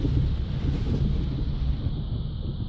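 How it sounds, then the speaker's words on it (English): Strong hurricane-force gusts of Hurricane Irma in Royal Palm Beach roar steadily across the microphone, a dense low rumble of wind buffeting with no voices. "we are definitely receiving hurricane force, gale force winds"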